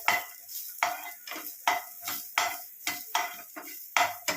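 Brinjal masala is sautéed in a pan, heard as a rhythmic series of about a dozen sharp scraping stirs against the metal with a light sizzle between them, close and fairly loud.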